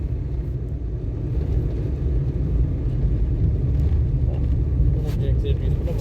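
A car on a road during a driving lesson, a steady low engine and tyre rumble heard from inside the cabin, with people speaking over it.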